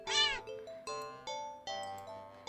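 A cat gives one long, loud, rising-and-falling meow, followed by clear ringing chime-like tones in a steady pattern, heard alone and fairly close.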